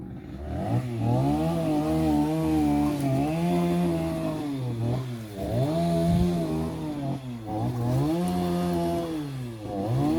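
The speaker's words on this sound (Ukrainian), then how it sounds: "Трошки шумно, бо дрова чи там що пиляють" A chainsaw drones in the distance, its engine rising and falling in pitch as it cuts firewood, continuous throughout.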